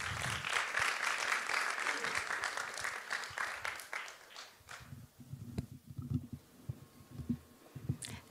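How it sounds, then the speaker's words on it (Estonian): An audience at a national music playing competition claps before a young performer's turn, steady applause for about four seconds that thins into quieter shuffling and low thumps. "Aplaus!"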